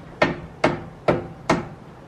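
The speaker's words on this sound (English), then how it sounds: "He's hammering off the caliper." Four evenly spaced metallic hammer blows ring out close by, striking a brake caliper on an Audi TT, each strike sharp with a brief ringing decay.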